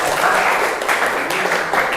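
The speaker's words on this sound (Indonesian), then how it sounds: "Tepuk tangan untuk kita semua ya." Applause from a classroom of students during a lesson, a dense, continuous clapping that stays loud and close for its full length with no voices over it.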